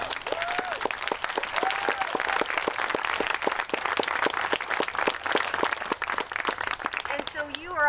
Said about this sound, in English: And so you are all clapping for yourselves right there, and you are clapping for each other.